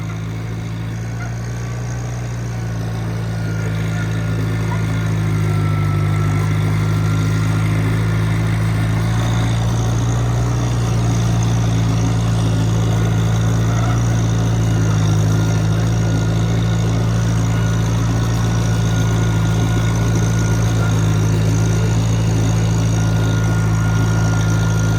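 Tractor engine running steadily in first gear, a deep, constant rumble with strong low hum that swells slightly after the first few seconds and stays loud and continuous throughout, with no talk.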